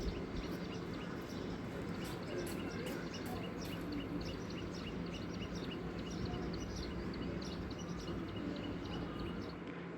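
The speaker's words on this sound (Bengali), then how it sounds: "চারিদিকে পাখি ডাকছে" Birds calling outdoors on a morning, many small chirps and tweets scattered throughout over a steady broad background hum, moderately distant and continuous.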